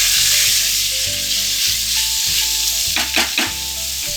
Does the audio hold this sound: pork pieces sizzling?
yes